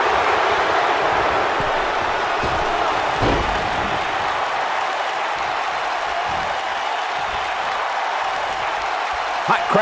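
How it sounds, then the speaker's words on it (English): In the WWE 2K19 wrestling video game, an arena crowd at a Monday Night Raw event in Minneapolis roars in a dense, continuous wall of cheering that stays loud throughout, with a few faint thuds breaking through. "Hot crowd here tonight in Minneapolis"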